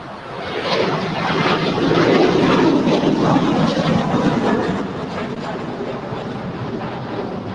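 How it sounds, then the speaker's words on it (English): An American Airlines A321 takes off on runway 25 right, a broad roar of jet engines that swells, holds loud for a few seconds, then eases into a steady rumble. No speech is heard. "Have an American A321 on our way to Philadelphia, flight 566, now rolling down 25 right."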